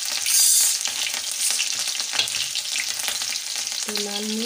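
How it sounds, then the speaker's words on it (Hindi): Cumin, garlic and green chillies sizzling as they fry in hot oil for khichdi, a steady close crackle with stirring, a burst of hiss near the start and a brief tonal clink near the end. "तेल हमारा गर्म हो चुका है। अब हम इसमें जीरा, लहसुन,"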